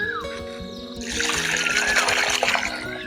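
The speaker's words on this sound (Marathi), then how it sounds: "दोन ते तीन वेळा पाण्याने स्वच्छ धुवून घ्यायचं" Running water splashes and gurgles as free-range village chicken is rinsed, starting after a quieter second and continuing with sloshing handling sounds over background music.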